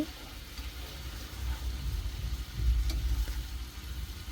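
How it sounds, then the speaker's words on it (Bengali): Mixed vegetables with beans, tomato and green chili frying in a pan, a soft steady sizzle with low rumbling stirring, quiet and close. "আর এইভাবে একটু ভাজা ভাজা করে নিচ্ছি"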